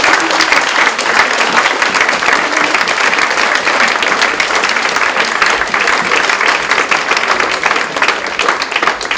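Sustained audience applause for a speaker at a public meeting, loud dense clapping from a full room holding steady for the whole stretch with no talking over it.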